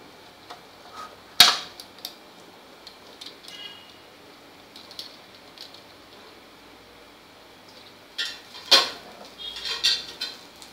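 Knife cutting through a homemade crispy tawa pizza on a pan: two sharp metallic scrapes with crackles, near and clear, separated by a long quiet stretch with faint light taps.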